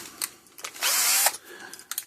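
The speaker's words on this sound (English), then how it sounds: "we need to drill off the tops of these bushings" A power drill grinds off the tops of insulator bushings on a 26-year-old Parmak Mark 6 electric fence charger, with one loud sustained burst in the middle and shorter clicks and taps of handling around it, close up and without talk.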